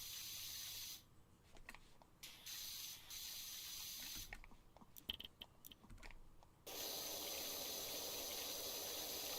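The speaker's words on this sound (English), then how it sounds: "What if I spray it with soap?" A pressure washer sprays soap in loud, steady hissing bursts that cut out and restart several times, with short quiet gaps and small clicks between them.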